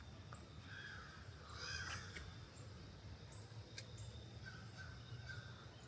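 Faint, distant caws from a flock of crows flying over a lake, several scattered calls over soft outdoor background noise.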